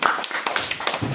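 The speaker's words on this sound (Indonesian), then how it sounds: "tepuk tangan untuk Alek ya" A small group claps briefly for a presenter at a teachers' training session, a quick scatter of light, uneven hand claps lasting about a second.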